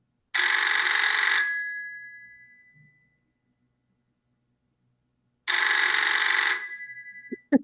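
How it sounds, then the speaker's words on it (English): A telephone rings twice, two electronic bursts separated by a few seconds of silence, followed by a faint click. "I was greeted by a sound very much like that of a phone ringing"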